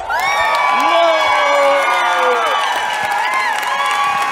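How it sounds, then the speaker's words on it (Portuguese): A live audience at a Brazilian stand-up comedy show cheers, whoops and applauds loudly for a comedian as he is introduced, a dense sustained crowd roar with high shouts and whistles throughout. "com uma salva de palmas e muito barulho"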